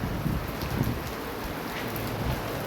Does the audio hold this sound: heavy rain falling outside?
yes